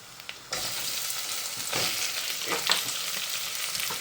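Onions frying in hot oil for prawn biryani, with a steady broadband sizzle that jumps up loudly after a short quiet start, crackling continuously with a few brief stirring bursts.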